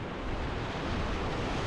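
Flood-stage rapid on a desert river, giant standing waves down the middle: a steady, loud, broadband roar of churning whitewater fills the whole moment without a break.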